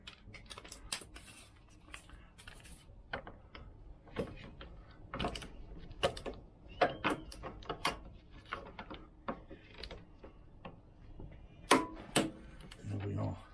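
Torque wrench ratcheting and clicking while tightening the clutch on a Lambretta Series 2 scooter, a run of sharp, close mechanical clicks and ticks scattered irregularly, with a brief clunk near the end and quiet speech now and then.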